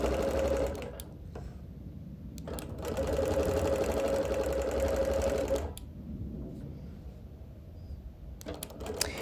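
A domestic sewing machine quilting through busy print fabric and batting runs in steady whirring bursts with short pauses between stitching runs, close and clear with no talk.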